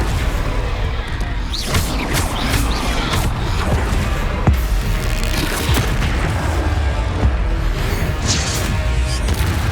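Booming fire-spell explosions from Confringo in Hogwarts Legacy, loud and repeated amid a chaotic duel of whooshes, crashes and impacts, with scattered voices underneath.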